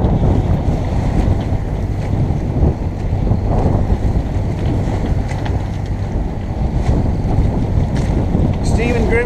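Gale-force wind at sea aboard a sailboat, a constant loud roar of wind buffeting the microphone over rushing water and waves, steady throughout.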